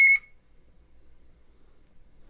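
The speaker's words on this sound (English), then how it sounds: "if you want to leave a message, you could right after the beep." A single short, loud electronic beep from a 1965 Record-O-Fone 100U answering machine, followed by near silence with a faint low hum.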